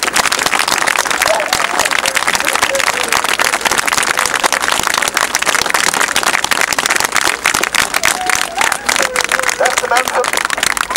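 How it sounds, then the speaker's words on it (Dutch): A crowd applauds loudly and continuously at the close of a speech during a street march against puppy farming in Ghent, dense clapping filling the whole stretch without pause. "Een applaus!"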